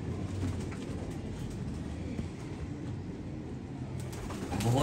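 Royal Teddy pigeons coo softly in their breeding setup, low murmuring calls repeating under steady background noise.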